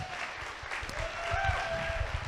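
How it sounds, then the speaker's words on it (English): Audience applause for a panel of speakers at an entrepreneur and investor event, a brief burst of clapping that builds slightly in loudness, heard at a moderate level in a room with some faint tonal background. "round of applause."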